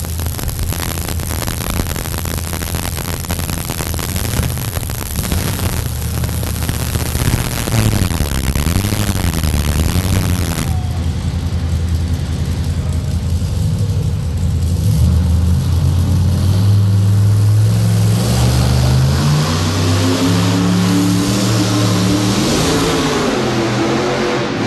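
A Chevrolet two-wheel-drive pulling truck at a 1989 truck pulling event in Louisville, Kentucky roars loudly and steadily, its engine revving with rising and falling pitch sweeps over a harsh, noisy din.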